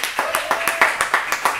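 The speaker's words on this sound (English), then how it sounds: "Let's have a big round of applause for Henry." Audience at the Blind Ox Tavern claps for comedian Henry Dobesh, a small crowd giving about ten fairly regular claps that sound close and moderately loud, with no talk over them.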